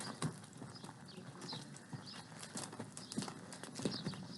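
Hooves clip-clop in a steady walking rhythm as a horse moves through a ranch riding arena during a group lesson, moderately close and fairly quiet, with faint bird sounds in the background.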